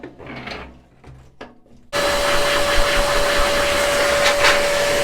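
A Parkside PWD 25 B3 wet and dry vacuum cleaner switches on after a few quiet handling knocks, then runs with a loud, steady roar and a constant motor whine until the end.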